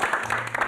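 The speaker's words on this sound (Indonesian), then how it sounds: "Tepuk tangan dong." Brief applause in a TV drama scene, a short burst of dense clapping from a small group right after a call to clap for a charity donation.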